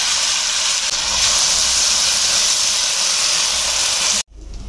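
Onions sizzle loudly in hot oil after potatoes have been fried, a strong continuous hiss heard up close before it cuts off abruptly and then quieter frying returns.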